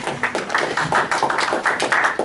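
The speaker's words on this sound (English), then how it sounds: "Let's give him a clap for him." A small audience claps together at a casual talk about Belgium, a dense run of hand claps filling the room evenly from near to mid distance, with no voices over it.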